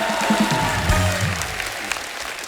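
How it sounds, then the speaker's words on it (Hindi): A studio audience at a Punjabi musical comedy show applauds the arriving guests, a short, dense burst of clapping that fades off within a couple of seconds. "जोरदार तालियां हमारे मेहमानों के लिए।"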